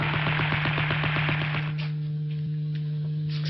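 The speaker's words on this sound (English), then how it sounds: "Machine gun fire." Machine gun fire in the 1950s Quatermass II serial, a rapid evenly spaced rattle of bursts over a steady electrical hum, stopping midway and leaving only the hum and a few faint clicks.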